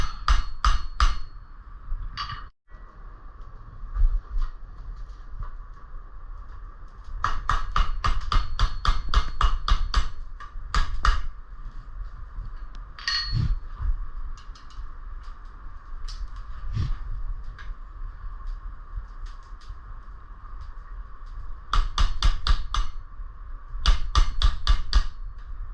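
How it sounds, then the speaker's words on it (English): A metal horseshoe being shaped into a heart is struck with a hammer in quick, rapid bursts of ringing blows, loud and close, over a steady background hum. "At which point you'll start hammering down along just right off the"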